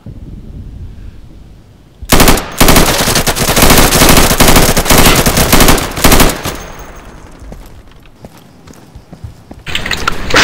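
Heavy automatic gunfire from Insurgency rattles in long dense bursts after a quiet opening, loud and close, then thins out before another burst near the end.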